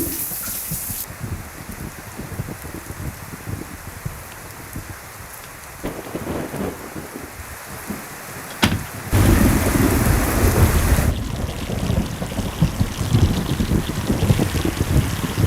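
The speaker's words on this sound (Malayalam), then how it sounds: "എന്തൊരു മഴയാ ഇത്." Heavy rain pours steadily with a rumble of thunder, the downpour growing louder and denser partway through.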